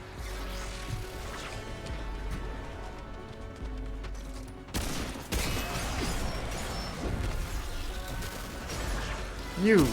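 Gunfire in the Remnant 2 video game, scattered sharp shots and clattering impacts over a busy, noisy battle mix, with a voice talking at times and a louder surge of action midway.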